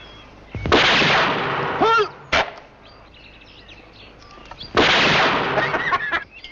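Shots are fired at clay pigeons: three loud, close blasts, each with a rushing echo tail, separated by quieter gaps, with thin whistling tones in between.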